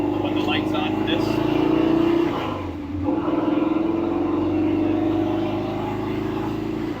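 A 1935 Factory Five hot rod with a Ford Racing 427 engine drives over road bumps, its engine holding a close, steady drone that dips briefly partway through and then picks up again.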